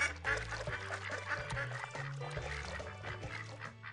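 Baby ducks quacking in the Putt-Putt video game, a cluster of cartoonish quacks and honks over a layer of game music that carries throughout.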